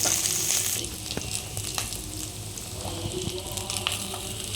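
Masala vermicelli frying in a pan gives a steady, moderately loud sizzle that holds evenly throughout, with a few faint clinks and stirring sounds on top.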